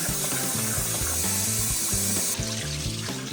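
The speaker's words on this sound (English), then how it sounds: "so we're gonna rinse the rice like this." Rice being rinsed in a pot of water, with sloshing, swishing water sounds close by in short rhythmic pulses, steady and fairly quiet.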